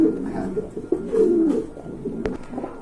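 Pigeons at a busy pigeon market give low, throaty cooing calls, close and fairly loud, over a murmur of background noise.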